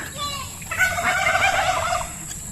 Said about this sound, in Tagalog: Mga pabo, manok nandyan, hindi gumagala.